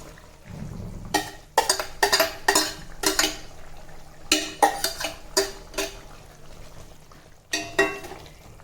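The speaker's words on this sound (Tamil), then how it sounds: "இப்போ நம்ம வேக வச்ச முளைக்கட்டின தட்டைப்பயிரை போடலாம்." Boiled sprouted cowpeas go into a pan with cooked brinjal and are stirred, giving a run of sharp, close scraping and clattering strokes in irregular bursts.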